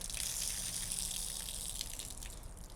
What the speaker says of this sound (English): There we go, and then go ahead and wring it out.